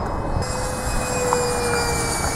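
An F-105 Thunderchief model jet flies on its maiden flight, a loud, steady whine and roar holding throughout with a faint pitch drift as it circles toward the runway.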